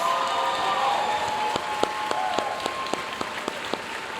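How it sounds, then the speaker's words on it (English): Sustained audience applause at a school district awards ceremony, a steady wash of clapping with a few sharper, regularly spaced claps standing out near the microphone. "Please join us in one more round of applause for our 2026 Teachers of Promise."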